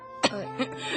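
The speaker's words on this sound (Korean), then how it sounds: "마담언니 기침하는 거 천식 때문이에요?" A woman coughs in a Korean radio drama reading: one sharp cough burst followed by two smaller throat-clearing coughs, close and fairly loud, with no speech.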